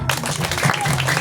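Children at a seventh birthday party clap together in a brief burst, with voices mixed in over the clapping.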